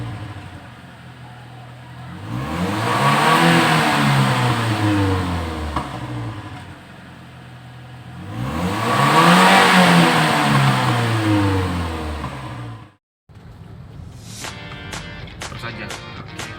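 A tuned 2010 Toyota Innova engine revs up loudly twice in long swelling sweeps, each rising and falling back, followed by a brief silence and then a steady idle with some clicking.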